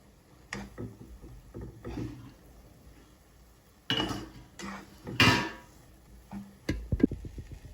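A lid clatters onto a steel pot of pineapple sheera cooking over a low flame, giving a few sharp metallic clanks and scrapes between quieter kitchen handling noises.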